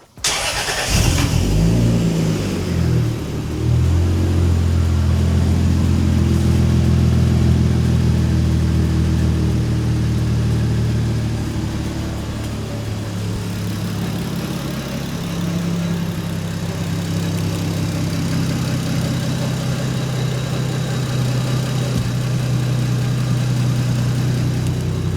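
A single-turbo Toyota Supra engine cranks and fires, then revs loudly and settles into a steady, rumbling idle, with heavy low-end exhaust drone filling the whole stretch and no talk over it.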